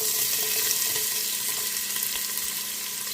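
Onion and garlic in hot oil in a saucepan, giving a steady, close hiss and sizzle without pause for a few seconds, with no one talking.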